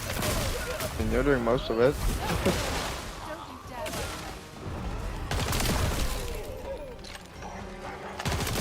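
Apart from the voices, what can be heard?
explosions in a video game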